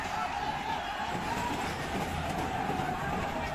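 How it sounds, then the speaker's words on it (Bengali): The Tista train crosses a bridge overhead, giving a continuous, moderately distant rumble with faint rail clatter and no pauses. "সামনে উপরে দিয়ে যে ট্রেনটি যাচ্ছে"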